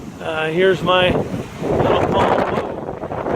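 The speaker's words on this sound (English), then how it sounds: "The palm trees are blowing pretty good." Strong wind gusts ahead of a cold front in Green Valley, Arizona, blowing through palm trees and buffeting the microphone in loud rushes, with someone speaking briefly at the start.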